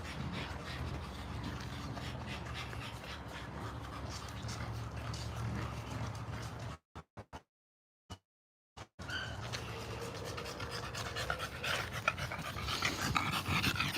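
American bully dogs pant hard and rapidly after running outdoors, a steady close breathing texture with a brief quiet gap midway and no talk.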